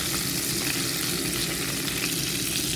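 Garlic frying in overheated, partly burnt butter for spicy shrimp, a loud, dense and continuous sizzle heard up close with no voices.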